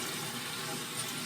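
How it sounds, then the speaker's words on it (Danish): Water poured into a pot, a continuous close hissing splash with steady, even loudness throughout the short span. "nu er vi jo så i gang med at hælde lidt vand op i"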